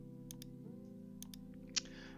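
A single sharp mouse click on an on-screen button in Archicad design software sounds faintly over a steady low electrical hum, with a few softer ticks scattered before it.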